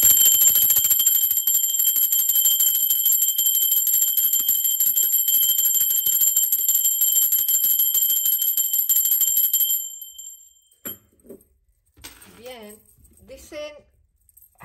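A bell rings continuously and shrilly for about ten seconds, then stops abruptly, leaving near silence with a few faint sounds.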